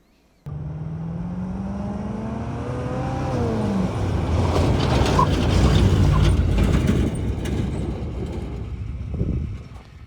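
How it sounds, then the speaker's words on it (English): A pickup truck engine idles off-road, then revs up into a loud, rising roar before easing back down. "On the left you hear my truck"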